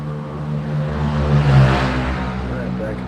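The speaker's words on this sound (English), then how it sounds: "Hear the loud motorcycles going by out here." Vehicles pass along a coastal national highway, loud motorcycle engines droning and swelling as they go by nearby, with a steady roar peaking midway and no talking.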